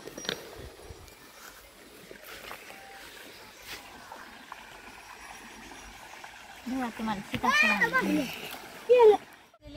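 Water splashes several times near the end, loud and close, in a small stream on a farm, after a stretch of quiet outdoor background with faint chatter.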